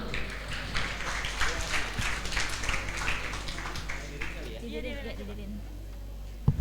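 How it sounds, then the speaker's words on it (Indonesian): A crowd at a university student orientation claps in a steady, dense wash of applause for several seconds, with some voices mixed in, tapering off toward the end. "Tepuk tangan dulu."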